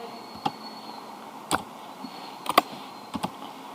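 Scattered keystrokes on a computer keyboard, a few isolated clicks followed by a quick pair and a final double tap, sharp and close over a faint steady hum, with no talking.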